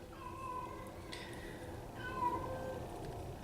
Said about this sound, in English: that meowing, you can probably hear, that's my cat